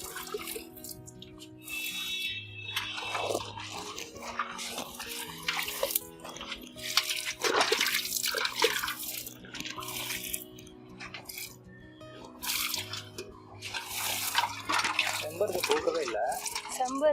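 Water poured on garden plants during cleaning at a home: irregular splashing and gushing in bursts with dripping between them, close by, under a person talking throughout.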